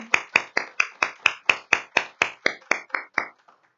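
Roughly fourteen sharp, evenly spaced claps from a small gathering at a conference session, crisp and close, each a distinct percussive crack about a quarter second apart, thinning out and fading at the end.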